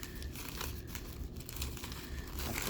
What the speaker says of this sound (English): take it out of the plastic bag, make sure we've got lots of room for us to work